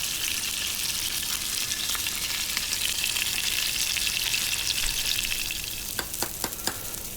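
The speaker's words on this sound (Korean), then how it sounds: "앞뒤만 구워주면 고기 옆면이 서운해하기 때문에 세워서 같이 구워준다" Loud continuous sizzling of steak searing in a hot pan, crackling and spitting steadily, with a few sharp pops toward the end.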